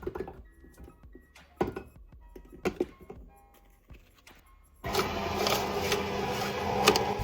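A Hysapientia SD603 cold press juicer grinds peeled, chopped beetroot fed gradually into its hopper. Quiet scattered clicks and taps come first, then a dense, steady whirring crush starts and runs loud to the end.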